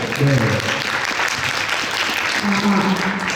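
Loud, steady applause from a theater audience at a talk concert, sustained throughout, with a voice briefly audible over the clapping.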